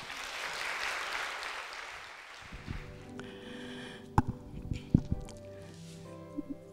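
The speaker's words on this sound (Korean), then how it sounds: "박수로 환영하시겠습니다." A congregation at a church summer worship gathering applauds to welcome a speaker. The clapping is moderately loud for about two seconds, then fades into a quiet room with scattered small knocks and rustles.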